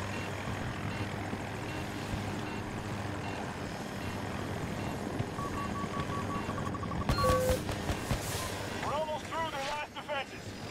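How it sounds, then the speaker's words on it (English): A jet aircraft engine in a video game drones steadily and evenly at moderate distance, with sharp electronic game tones and a brief warbling effect cutting in over it toward the end. "This is the jet, by the way."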